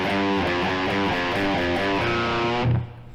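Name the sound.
electric guitar playing a song's verse riff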